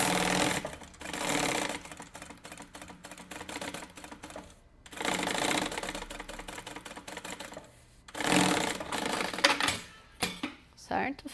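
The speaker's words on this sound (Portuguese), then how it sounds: "E a gente passa uma costurinha bem na beiradinha." A sewing machine stitches along the edge of fabric layers for a cosmetic case in rapid clattering bursts, broken by short pauses, while someone talks between runs.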